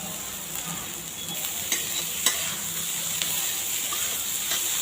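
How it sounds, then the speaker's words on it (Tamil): Steady sizzling of onions sautéing in a pan for Schezwan fried rice, with occasional stirring scrapes, close and continuous. "வெங்காயத்தை போட்டு நல்லா வதக்கணும்."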